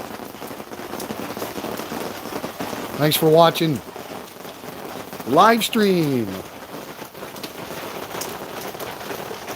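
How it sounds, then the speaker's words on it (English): Steady rain falls in Ban Chang, Rayong, Thailand, a constant hiss of drops on surfaces, with a voice speaking briefly twice over it. "Rain in Thailand. Very welcome rain."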